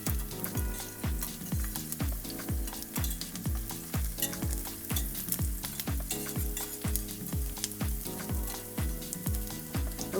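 Spinach and garlic sautéing in a skillet give off a steady loud sizzle, with a rapid, regular scraping and stirring rhythm running throughout, close up and with no voices.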